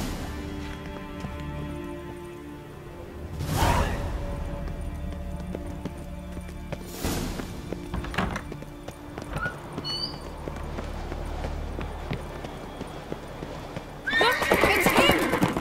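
Horses in The Witcher 3 game gallop with steady hoof clip-clop and loud whinnies, the hoofbeats carrying through a chase while voices speak over them.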